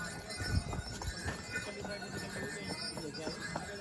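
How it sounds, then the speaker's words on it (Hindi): Horses carrying riders on the mountain path from Katra toward the Vaishno Devi Bhavan, hooves clip-clopping in an irregular rhythm at moderate distance, with faint clinks and some quiet outdoor background. "मैं इस घोड़े पे हूँ, शालू उस घोड़े पे है।"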